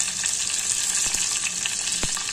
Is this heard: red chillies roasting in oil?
yes